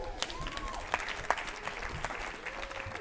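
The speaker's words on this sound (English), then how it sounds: "Give her an applause." Applause from an audience at an environmental leadership awards event, a fairly quiet, thin patter of clapping with a few sharper individual claps standing out, heard at some distance.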